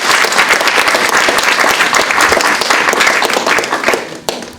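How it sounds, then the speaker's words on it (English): Audience at a university panel discussion on the Flint water crisis applauds loudly and steadily, a full, close round of clapping that tapers off at the end. "Let's give everybody a round of applause."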